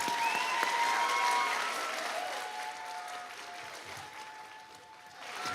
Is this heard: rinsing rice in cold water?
no